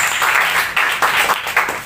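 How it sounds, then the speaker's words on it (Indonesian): A church congregation applauding after a sermon, with bursts of clapping that swell and pulse in uneven waves over about two seconds. "Beri tepuk tangan terbaik buat Tuhan Yesus Kristus."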